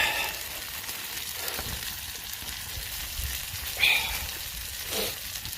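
Potatoes and onions sizzle and crackle steadily in a hot pan at an outdoor campsite, close up, with a few stirring scrapes and clatters and no talking.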